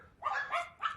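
Three quick dog barks in a row, close and fairly loud, the last slightly apart from the first two.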